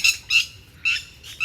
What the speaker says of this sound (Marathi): कसे पक्षी ओरडतात पण भीती वाटते